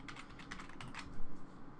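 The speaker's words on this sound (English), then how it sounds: "we can type in the password for the built-in administrator account" A password tapped out on a computer keyboard during a Windows Server 2012 setup: a short, close burst of quick key clicks with a firmer cluster of strokes near the end.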